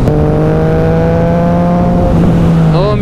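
A Yamaha MT-09 motorcycle engine revs loud and close in a sustained high drone, its pitch holding steady before a quick drop and a rising shift at the end.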